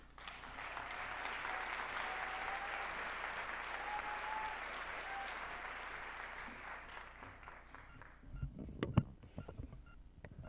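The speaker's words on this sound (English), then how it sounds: "So give them a round of applause." A round of applause for grant-winning project presenters at an event, steady crowd clapping held at moderate distance for several seconds, then thinning into a few scattered claps and bumps at the end.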